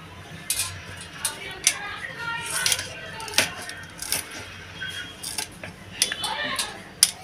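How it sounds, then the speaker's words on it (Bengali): Green chillies being chopped with a knife for potato and coriander pakoras, heard as irregular, crisp knife taps on a board at close range, with faint voices in the background. "লঙ্কাটাও কুচি করে নিচ্ছি"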